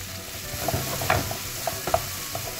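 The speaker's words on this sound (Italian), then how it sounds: "Ora metto a cuocere anche le zucchine." Zucchini fry and sizzle in a pan with garlic just removed, a steady hiss broken by several clattering stirs of a utensil against the pan, close and alone with no talking.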